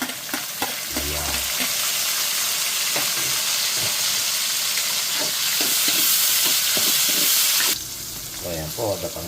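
Tomatoes sauté in a pan with already cooked garlic and onion, a loud steady sizzle broken by repeated spatula scrapes and stirring knocks, with a brief low thump early and a quieter patch of clatter at the end.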